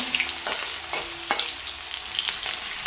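Potato pieces frying in a pan for a vegetarian potato and pumpkin dish, with a continuous crackling sizzle and several sharp clinks and scrapes as they are stirred.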